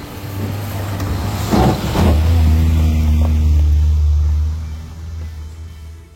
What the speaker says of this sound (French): c'est au volant de l'estafette que je la remonte